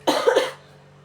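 A single harsh cough voiced by a storyteller imitating a sick character, close and loud, ending abruptly into quiet.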